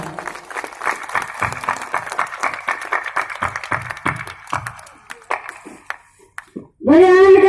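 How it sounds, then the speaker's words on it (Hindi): A crowd claps steadily at a Bhagwat Katha program held in a gaushala, with a sustained musical tone behind the applause before it thins out. A loud, bright held tone then cuts in at the end. "इनके लिए एक बार जोरदार तालियां"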